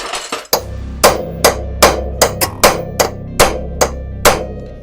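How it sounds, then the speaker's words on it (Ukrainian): A series of sharp metallic hammer blows on a chisel, about a dozen loud strikes at an uneven pace, ringing close by with no talking. "Ще є один такий спосіб, називається зубило і молоток"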